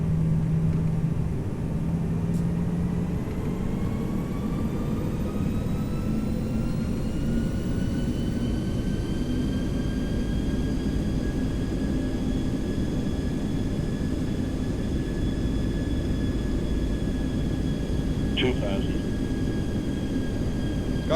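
An Airbus A319 airliner on approach to landing in X-Plane 11 gives a steady, droning engine hum with rising and falling whine tones throughout, plus a brief click near the end.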